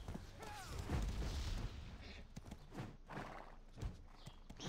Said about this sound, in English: Let's go jump on our horse.